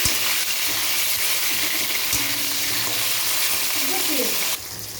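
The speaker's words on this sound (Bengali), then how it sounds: "এবারে ফুলকপিগুলো লাল লাল করে ভেজে নেবো।" Cauliflower florets with salt and turmeric frying in a pan for a Bengali spinach chorchori, a steady close sizzle throughout with a few soft stirring scrapes, fading slightly at the very end.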